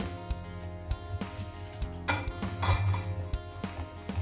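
Gram flour batter for kothimbir vadi being spooned into a greased plate, with close, repeated clinks and scrapes of a metal spoon against the plate and bowl in an uneven rhythm.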